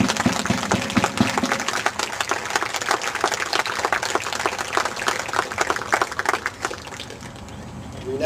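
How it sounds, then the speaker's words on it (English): A gathered audience claps at a military change of command parade for the 110 Black Hawk squadron, sustained dense applause with sharp individual claps near the start, tapering slightly at the close. "Please let's give a round of applause"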